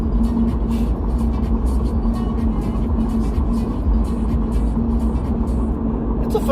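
A steady, loud rumble of road and engine noise fills the cabin of a car cruising on a highway, constant throughout with a faint voice underneath.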